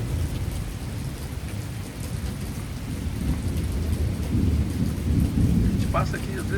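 A thunderstorm in Naugatuck, Connecticut, with strong wind brings heavy, steady rain hissing on surfaces while deep thunder rolls and swells loudly through the whole stretch.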